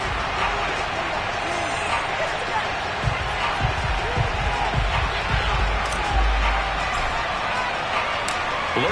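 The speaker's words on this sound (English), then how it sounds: "This crowd is ready as their guys get set to match up with the New York" Stadium crowd noise at an NFL game in an EA Sports football video game, a steady dense roar filling the whole stretch with scattered thumps and swells, with a commentator's voice talking over it.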